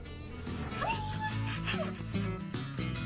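A Labrador Retriever barks and lets out high, wavering whimpers and yips, the sharp barks and whines overlapping in an excited, restless string at close range.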